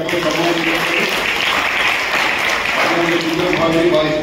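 A church congregation at All St.'s Church, Jhanzra, applauds to honour guests during a service. Dense, steady clapping fills the whole stretch, with crowd murmur and voices mixed in.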